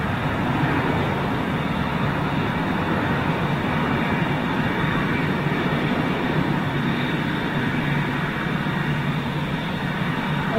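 A Wizz Air airliner passes overhead at Lisbon, a steady, loud jet roar that holds at an even level for the whole stretch with no voices.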